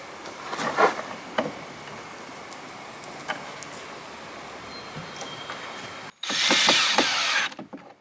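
A power drill drives pocket hole screws into wood while building a storage bed for a tiny house. Scattered clicks and taps lead to one loud, close whir that lasts over a second before cutting off.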